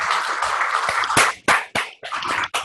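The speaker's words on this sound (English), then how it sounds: "give all of our guests a round of applause" Applause from a live audience greeting guests at an academic teleconference panel on Black male studies: dense, steady clapping that swells, then tapers off in a few sharp final bursts.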